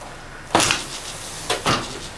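Someone tries a door during a snowy blizzard, producing two or three short rattling knocks and thumps, close by, with a pause between them.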